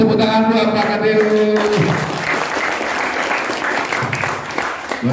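After a brief tuneful voice, loud crowd applause breaks out at an evening fast-breaking gathering and carries on steadily to the end.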